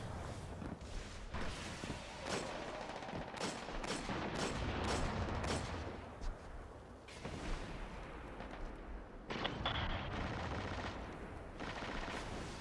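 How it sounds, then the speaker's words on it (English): Gunfire in a Destiny Crucible match, dense bursts of rapid shots and heavy blasts rattling close and loud in quick clusters, with brief lulls between volleys. "like getting shot from the side room"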